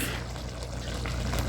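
Liquid poured off from a small can of Better Goods food, a close, steady trickling pour lasting a moment with no talk.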